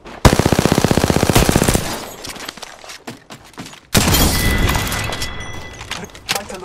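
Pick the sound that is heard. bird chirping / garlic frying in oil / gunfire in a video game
gunfire in a video game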